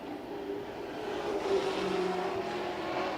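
Race car engine at La Crosse Speedway during qualifying, a steady loud drone of a car lapping the oval, holding a fairly even pitch for several seconds with a slight swell midway and no talk over it.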